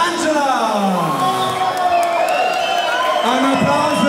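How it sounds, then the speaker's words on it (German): A crowd at an Oktoberfest-style party contest cheers, whoops and claps loudly and continuously for contestant Angela, with shouting voices layered over the applause. "Ein Applaus für Angela!"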